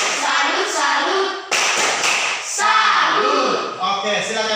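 A classroom of students stands and performs a rhythmic salute clap, with bursts of patterned hand claps mixed with chanting voices and the teacher speaking.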